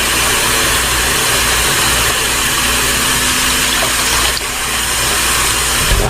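Raw chicken, with its fat and skin trimmed off, is washed under running tap water for a Jamaican brown stew chicken, a loud, steady rush of water close by.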